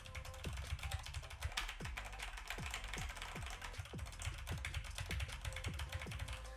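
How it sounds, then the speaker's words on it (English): Rapid typing on a computer keyboard, with dense, steady clicks and clacks of keys pressed close to the microphone, continuing throughout with no voices. "Again, keyboard test."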